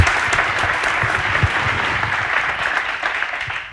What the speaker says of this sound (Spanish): Un aplauso para Delia, por favor